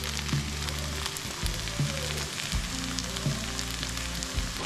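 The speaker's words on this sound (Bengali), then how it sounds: "আরও কিছুক্ষণ নেড়ে চেড়ে নামানোর আগে 1 চামচ ঘি দিয়ে দেব।" Banana flower curry cooked with a katla fish head is stirred and fried in ghee, a dense steady sizzle with a few spatula knocks over a low background hum.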